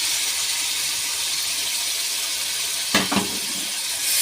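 Fish heads are poured into hot spiced oil in a pan, bringing a short, sharp burst of splashing sizzle over a steady background hiss.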